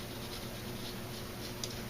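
Pencil with a light touch drawing a face on paper, a soft steady scratching that runs without pause and stays faint and close.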